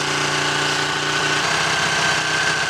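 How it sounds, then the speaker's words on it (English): A Ducati Panigale 1299 S motorcycle engine runs steadily and close by, with a loud, even mechanical drone and a noisy, throbbing idle-like tone throughout. "It's a very noisy bike, this."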